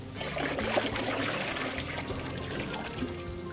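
Rinsed wool being wrung out by a gloved hand beside a ditch, water trickling and dribbling steadily back down, close and continuous with a few small splashes and no talk.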